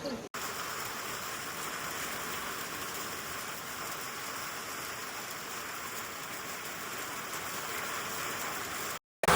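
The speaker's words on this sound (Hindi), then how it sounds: "देखिए दोस्तों बारिश बहुत ज़्यादा तेज़ हो गई है" Heavy monsoon rain in Meghalaya drums steadily on a tin roof overhead, a dense, continuous hiss and patter at moderate level that cuts out abruptly near the end.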